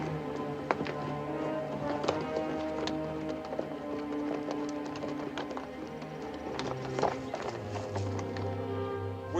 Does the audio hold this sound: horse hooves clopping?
yes